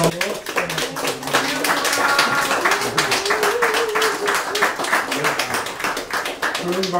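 Rhythmic, lively clapping from an audience at a founding general assembly of an art-song association, steady and dense throughout, with voices audible beneath the applause.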